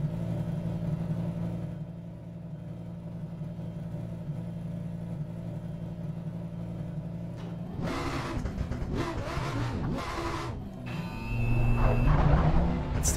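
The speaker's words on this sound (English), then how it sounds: "Engine volume's too loud by a fair bit." Race car engine in the racing game Assetto Corsa Competizione: a steady idle drone for several seconds, then a burst of sharp revving with rising and falling pitch that swells louder toward the end.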